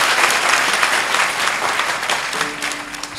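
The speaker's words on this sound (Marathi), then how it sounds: "एकदा टाळ्या तर वाजवा" An audience at a religious festival celebrating a saint's birth anniversary breaks into loud, sustained applause that fades a little toward the end, where a faint steady tone emerges.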